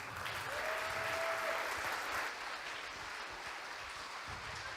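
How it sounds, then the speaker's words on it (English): At a Bitcoin conference stage, a faint, distant audience applause forms a steady wash of dense clapping after a talk, holding evenly without a break. "round of applause for that gentleman"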